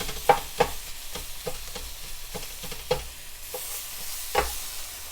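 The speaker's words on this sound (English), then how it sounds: "so I'm going to go ahead and start chopping" Irregular metal scraping and tapping as elk meat is chopped with two spatulas on a hot griddle, over a soft, steady sizzle.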